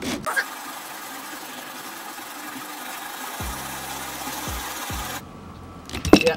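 A steady, grinding whir of a bow drill spinning against wood runs for several seconds, cuts out, then a few sharp knocks and scrapes follow.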